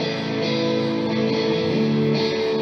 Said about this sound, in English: here are the extra rhythm guitars on their own.